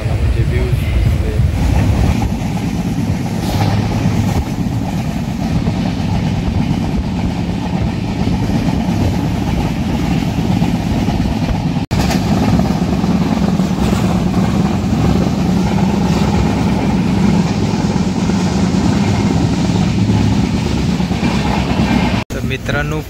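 A Konkan Railway passenger train runs between Mumbai and Thivim with a steady, loud rumble and rattle of the carriages throughout, and a voice talks over it.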